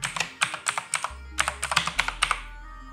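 Fingers type text on a computer keyboard close by, two quick bursts of crisp, rapid key clicks separated by a short pause, then quiet.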